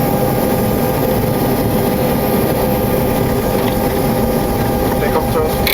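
A Boeing 727-200's engines roar in the cockpit as they spool up to takeoff thrust, a loud, steady, broadband rumble that fills the whole stretch without a break.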